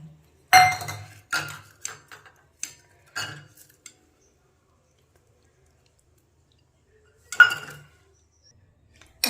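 Small bowls clink and knock against each other and a hard surface while being handled and greased with oil for making non-fried katori snacks, a cluster of close, bright clatters early on, then a quiet gap and a final burst of clinking.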